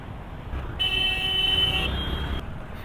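Stuck in a traffic jam on a service road, vehicles rumble low and constant while a horn toots a couple of times over the steady roadway noise.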